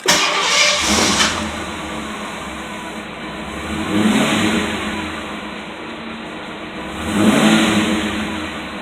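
A Fox body Ford Mustang with a newly fitted 3G alternator cranks and fires up, then settles into a rough idle broken by two throaty revs, heard up close with no talking.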